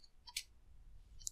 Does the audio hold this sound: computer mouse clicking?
yes